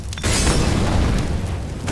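A C4 bomb detonates in Counter-Strike with a loud, heavy boom and a sustained rumbling roar that fills the rest of the moment, close and overwhelming.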